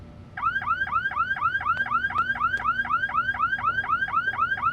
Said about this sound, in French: Toucher aux œuvres exposées déclenche l'alarme.